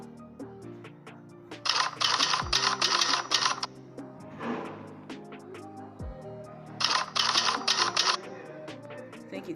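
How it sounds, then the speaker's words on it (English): Two bursts of rapid mechanical typewriter keystrokes, each run of clacks closed by a carriage-return ding and slide, crisp and close, played as a typing sound effect with no speech. "I've downloaded a typing effect to my gallery."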